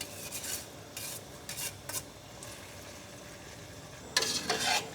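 Rice being stirred gently into jaggery syrup in a cooking pan gives soft scraping, rubbing strokes in short bursts with a light sizzle underneath, close by and fairly quiet, with no one talking.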